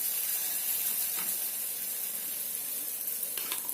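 Small dollops of batter made from mixed flours and vegetables drop into hot oil in a pan over a medium flame, giving a steady, close, bright sizzle throughout with faint crackles near the end.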